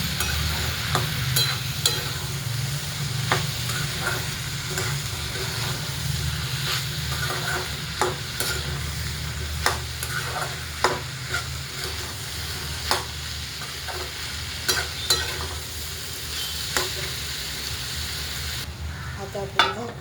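Masala is stirred into potato vegetable frying in oil in a pan, with a steady sizzle under repeated sharp scrapes and clinks of a spoon against the pan for about twenty seconds, and no talking.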